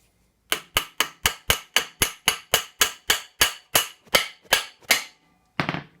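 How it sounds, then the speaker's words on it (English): Sharp metallic hammer taps on the steering arm of a 1947 GMC steering box, in a steady series, about sixteen close together, then a brief pause and one final blow; nearby, no talking. "tap it with the hammer"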